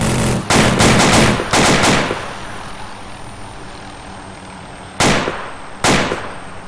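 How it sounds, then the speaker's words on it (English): AK rifle fire comes in four loud automatic bursts: two early back-to-back strings, then two short bursts near the end. A steady engine or aircraft drone runs underneath. "AK fire from the east."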